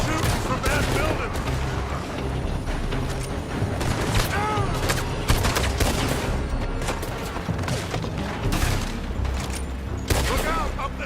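Dense gunfire in a Red Dead Redemption 2 shootout, continuous overlapping shots and booms with ricochet whines throughout, with voices talking amid the firing.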